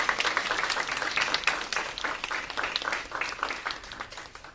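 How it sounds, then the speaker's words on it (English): Audience at an evening entrepreneurs' speaking event, Small Business Development Center with the University of the Bahamas, giving a sustained round of applause, dense steady clapping from many hands throughout without a break. "So give yourselves a round of applause."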